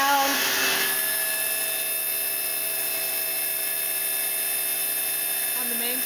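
The main spindle of a Star SB16C CNC Swiss-type lathe running: a steady mechanical whine with layered sustained tones held at even loudness, after a short burst of noise at the start.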